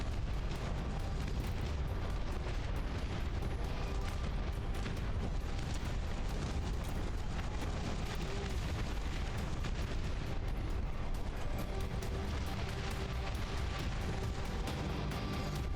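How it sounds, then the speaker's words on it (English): Artillery barrage in the Dust Front RTS game, shelling dreadnought war machines: a dense, continuous rumble of booms and blasts layered over one another, heavy and unbroken for the whole stretch. "Unless my artillery destroys the dreadnoughts."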